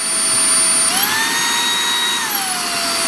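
An Aposen cordless vacuum cleaner runs steadily with a high whine that shifts pitch upward to full speed partway through, then settles, with no talking.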